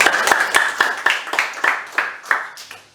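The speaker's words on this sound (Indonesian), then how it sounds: "Tepuk tangan yang keras buat" A church congregation claps loudly in a steady, fast rhythm, with sharp, crisp claps falling about four times per second for three seconds.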